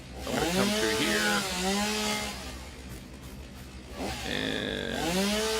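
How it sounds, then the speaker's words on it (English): Chainsaw in the video game Satisfactory clearing ground, a loud buzzing whine that rises and falls in pitch over several revving passes, sounding alone and close. "Let's get our old chainsaw out and do some ground clearing."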